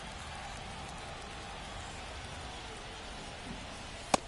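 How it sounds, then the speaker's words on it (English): Heavy rain pours down steadily on a baseball stadium during a game, a dense, even hiss throughout with one sharp knock near the end. "We're coming right up against it with the way this rain is coming down"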